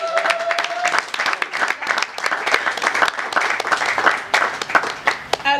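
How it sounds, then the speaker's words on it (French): Audience applause for comedians and actors at an event, a crowd clapping steadily and fairly loud throughout, with a voice briefly heard at the start. "On va applaudir une fois de plus pour ces messieurs."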